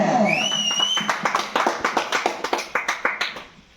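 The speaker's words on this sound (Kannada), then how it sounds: "ಗುಂಡ ಹಾಗೂ ಪವನ್ ಅವರಿಗೆ ಹೃದಯಪೂರ್ವಕ ಚಪ್ಪಾಳೆ" An audience claps for two comic performers at a Kannada singing show, a crisp run of rhythmic handclaps that starts just after a short whistle and tails off near the end.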